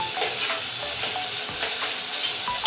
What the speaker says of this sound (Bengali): সুন্দরভাবে ভাজা ভাজা করে নিতে হবে দেখুন পেঁয়াজ আর ক্যাপসিকাম একসঙ্গে পড়ে গিয়েছে